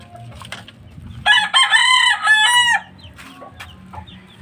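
A rooster crows loudly once, a long ringing cock-a-doodle-doo over a low rumbling background with faint clucking around it.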